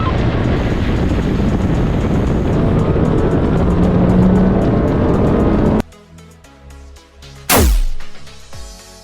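A Honda City engine roars loudly under hard acceleration with wheel spin for several seconds, then cuts off abruptly, followed by a sharp sweeping whoosh.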